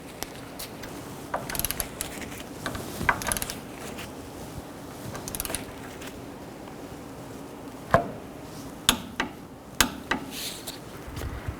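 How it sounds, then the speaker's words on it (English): Wrench work tightening and torquing the outer tie rod castle nut on a 1999-2007 Chevy Silverado 2500, heard as scattered ratchet clicks and sharp metallic taps with short bursts between pauses, close and moderately loud. "we can tighten this nut down and torque this to 48 foot-pounds"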